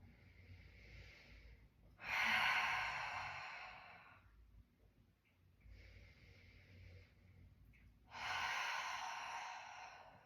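Deep yoga breaths in two rounds, each a soft inhale building into a long, loud, airy exhale close to the mic, with quiet pauses between and no talking.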